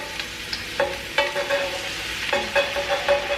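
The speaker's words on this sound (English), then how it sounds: "I'm gonna go ahead and dump these mushrooms in here" Mushrooms sizzle and crackle in a hot pan as they are dumped in and stirred, a steady close frying hiss with scraping stir sounds.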